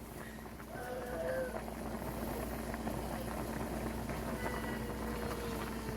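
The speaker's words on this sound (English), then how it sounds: "Now we're just letting this boil." Shortcut goulash boils in a pot with a steady, low bubbling rumble that swells slightly after the first second and holds constant, with a faint voice murmuring underneath at times.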